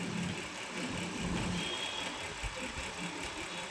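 A jammed sewing machine that drops stitches runs stiffly, giving a continuous low mechanical drone with a faint rough knocking, steady and fairly quiet with no talk.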